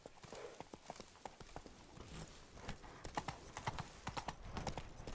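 Hooves of Geralt's horse in The Witcher 3 video game pound in a fast, uneven galloping rhythm throughout, close and loud over game ambience.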